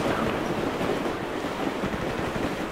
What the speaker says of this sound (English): The only thing about this map I hate is the train.